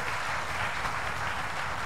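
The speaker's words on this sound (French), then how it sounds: "Acclame pour tes progrès." Church congregation applauding during a Sunday worship service, a steady dense wash of clapping filling the room without a break and no voices standing out.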